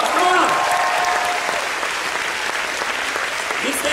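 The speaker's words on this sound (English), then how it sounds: "why don't you give yourself a round of applause?" Steady applause from an audience fills the whole stretch, dense clapping at an even loudness with no voices breaking through.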